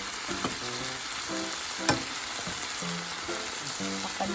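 Pinakbet vegetables with eggplant are stirred in a sizzling frying pan. A steady fry hisses underneath while a spatula scrapes and taps in a loose, repeated rhythm, close and fairly loud, with no talk.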